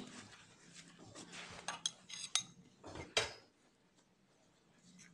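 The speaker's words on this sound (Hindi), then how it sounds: "उसके बाद ये जो चावल का आटा है ये भी हम इसमें डाल देंगे और इसके बाद हम इसको अच्छे से मिक्स करेंगे।" A spoon stirring rice flour into a face mask mixture in a bowl, giving irregular scraping and clinking strokes against the bowl that fade to quiet near the end; no speech.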